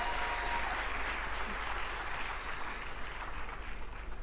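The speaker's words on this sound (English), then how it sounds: "let's give a bigger round of applause to them" Distant, faint applause at a currency launch event, a soft steady patter of many hands clapping in a large reverberant space.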